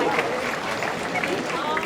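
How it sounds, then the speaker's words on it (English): A crowd at a community celebration applauds a news anchor in a brief, dense burst of clapping that fills the hall, with some voices mixed underneath. "Round of applause for Chanu"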